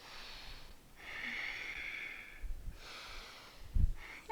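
Slow, audible yoga breaths sound close and soft: long airy inhales and exhales through the nose, with a brief snort-like push and a light thump or shift near the end.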